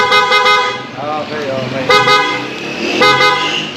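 An aftermarket PIAA horn fitted to a Honda ADV 160 scooter gives three loud, close honks: two quick blasts, then one more a second later, with people talking over and between them.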